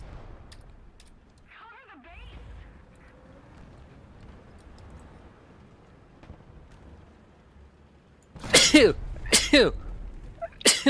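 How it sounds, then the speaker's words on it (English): A sudden burst of loud sneezes, two or three close together, breaks out at the end after a long stretch of quiet background with faint vocal sounds. "Terrible time to sneeze."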